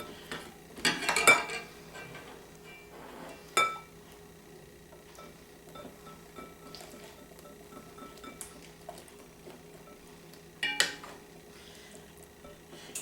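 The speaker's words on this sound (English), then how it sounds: "the constant whisking is, of course, to keep the eggs from cooking in spots" Eggs being whisked in a bowl for homemade custard, giving faint light clinks and taps of the whisk against the dish, with a few louder clattering bursts, close by and without talk.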